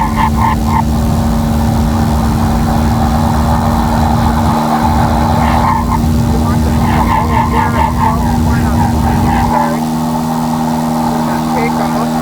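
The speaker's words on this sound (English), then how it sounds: "We're going to throttle back to 2100" Small aircraft engine droning steadily during turns near Fairbanks International, a loud constant hum with a sharp drop in level near the end as the throttle comes back, with faint voices over the intercom.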